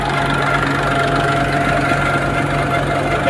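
A tractor-driven peanut thresher runs at a steady rate, with a loud, close, continuous engine drone and a regular low knocking pulse.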